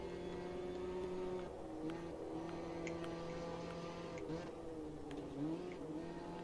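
A Ginetta race car accelerating on the Donington circuit in the video game Automobilista 2, its engine droning steadily and loudly, with brief pitch dips and rises as it shifts and revs throughout.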